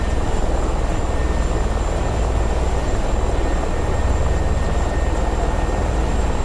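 Mi-24 attack helicopter in a DCS World dogfight, a loud, continuous rotor and engine drone with a steady high whine, unbroken throughout.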